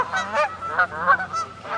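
Canada geese honking as a sound effect, a close, loud run of repeated nasal honks in quick, irregular succession from several birds, heard alone.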